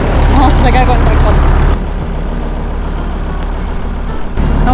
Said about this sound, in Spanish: Vamos a sacar con el tractor.